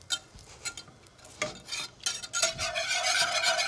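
A whisk scrapes and clicks rapidly against a pan as cold butter is beaten into a demi-glace, irregular metallic strokes over a soft simmering sizzle, growing busier toward the end.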